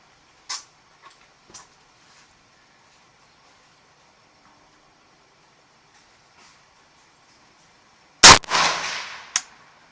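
One sharp, loud rifle shot cracks near the end, fired at a target through an ATN X Sight II scope, with a brief echoing tail and a smaller click after, following near silence and a few faint clicks.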